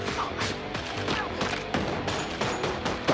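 Rapid bursts of movie-trailer gunfire crackle over a pounding action score, shots stacking into dense volleys at close range for the whole stretch.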